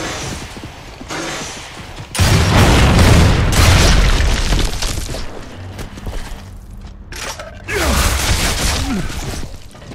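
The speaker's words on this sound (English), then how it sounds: "He's got a grenade in there." A grenade blows up in Gears of War 2 during a Wingman match, a loud close boom that gives way to a long rumbling roar with a second surge of blast noise later on.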